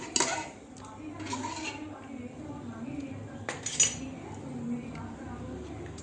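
Metal clinks and clatters as the lid of a pressure cooker holding beef for yakhni pulao is worked open after its pressure has been released, several sharp knocks over quiet kitchen noise.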